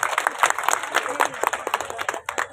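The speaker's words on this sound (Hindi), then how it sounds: "हम तालियां बजाएं भाई, और कंजूसी नहीं करें भाई" Scattered clapping from a seated audience at a public hearing on labour issues in Bhim, Rajsamand, loose and uneven with a few louder claps and some murmuring voices under it.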